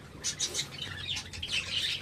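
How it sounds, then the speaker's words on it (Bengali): Java sparrows in a breeding colony of about twenty pairs give soft, repeated high chirps and squawks, faint and slightly distant. "আমার এই কলোনিতে আমি 20 জোড়া এখন আমি জাভা পাখি রেখেছি"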